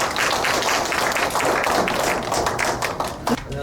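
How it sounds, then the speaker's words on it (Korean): Applause from a seminar audience greeting an advertising planning director as he comes up to speak, a dense, steady wash of clapping that carries on unbroken through the whole stretch, with a few sharper individual claps near the end. "여러분 힘찬 박수로 맞이해 주시기 바랍니다"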